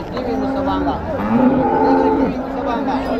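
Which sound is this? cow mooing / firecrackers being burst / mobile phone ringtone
cow mooing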